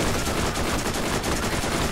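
Dense, continuous weapon fire in Borderlands, loud and close with rapid overlapping shots and no pauses; no talk.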